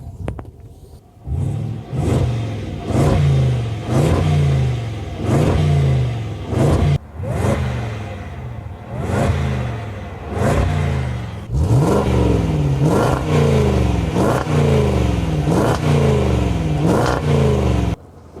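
A powerful 5-litre, 525-horsepower V8 engine of a Range Rover Sport revs repeatedly up close, each throttle blip rising and falling in a rhythmic series of loud roars and burbles.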